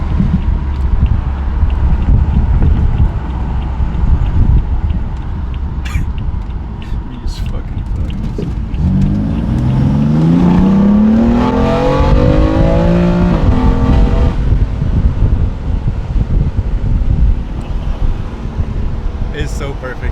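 A BMW F80 M3 fitted with catless downpipes accelerates hard on a highway, its raspy exhaust rising in pitch through a long pull over steady road and wind noise before easing off.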